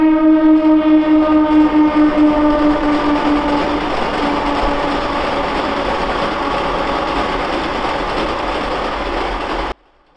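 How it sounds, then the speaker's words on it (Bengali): A loud train horn blares at the start, then a Howrah–Kharagpur local train rumbles steadily past up close beside flower fields near the Kangsabati River in Khirai, with broad rushing noise for about ten seconds before cutting off. "আর সামনে ট্রেন যাচ্ছে"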